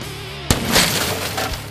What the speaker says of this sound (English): We recorded smashing car windows